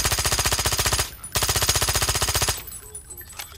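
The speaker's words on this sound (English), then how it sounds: "I really like the silencer sounds. They're very unique to each one, and it's pretty cool sounding." Rapid bursts of silenced automatic gunfire from the video game Brink, two loud sustained strings of fast shots with a short gap between them, ending in a fading mechanical tail.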